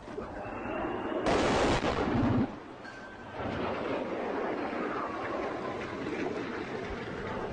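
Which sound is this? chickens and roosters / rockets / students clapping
rockets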